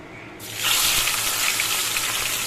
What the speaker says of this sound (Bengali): এবার আমি মাছের মাথাগুলোকে আগে ভাজা করে নেব ভালো করে